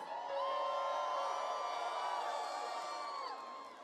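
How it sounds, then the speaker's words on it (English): A large crowd at a live rap set at the Rolling Loud Cali 2024 festival cheers and whoops steadily, a dense roar of voices with high shouts rising over it that fades slightly at the end. "Make some fucking noise!"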